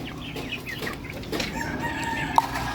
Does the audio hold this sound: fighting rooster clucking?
yes